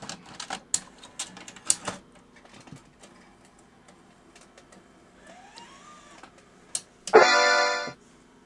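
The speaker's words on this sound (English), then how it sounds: "So pop in an analog tape." An analog tape is loaded into a JVC BR-DV3000U tape deck: a series of sharp mechanical clicks and clunks, a short rising motor whine, then a loud buzzing mechanism burst near the end.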